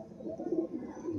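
A pigeon coos softly at close range, one low, muffled, rounded call lasting about a second against a quiet background.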